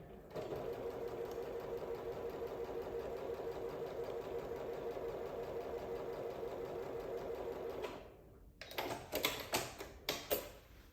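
A sewing machine stitching quilt binding strips joined at a right angle, running steadily and fast for about eight seconds with a close rhythmic hum, then stopping before several sharp handling clicks.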